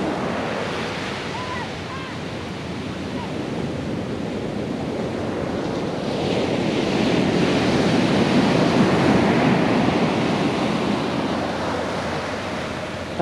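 Ocean surf breaking on Baker Beach in San Francisco, a continuous windy roar of waves that swells louder midway through, with no talk.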